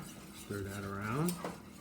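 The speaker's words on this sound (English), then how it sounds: "Stir that around." Spinach being stirred into a soufflé mixture in a pot with the heat turned off: a spoon clinks and scrapes against the metal, with a drawn-out squeaky scrape in the middle, fairly quiet and close.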